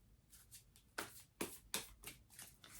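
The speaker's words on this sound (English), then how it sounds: "just one more good shuffle" Quiet, close riffle of cards being shuffled, several quick papery bursts in an uneven rhythm, with no talking.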